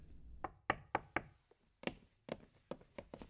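Knocking on a door: about a dozen sharp, close raps in irregular bursts, fairly quiet overall, with no voices over them.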